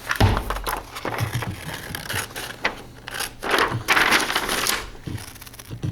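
Scissors snip through folded paper while cutting around flower petals, making a steady run of close, crisp crunching cuts with brief pauses between strokes.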